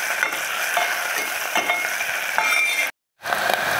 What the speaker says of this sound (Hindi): अभी हम इसमें ऐड करेंगे पनीर को भी साथ में भून लेंगे।